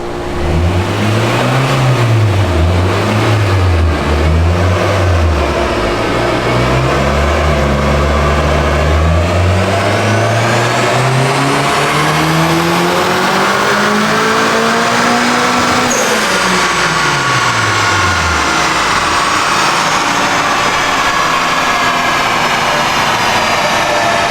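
A turbocharged Honda Civic running on E85 revs hard on a dyno, its loud engine note sweeping up and down several times before climbing through a long full-throttle pull and dropping off, continuous and close.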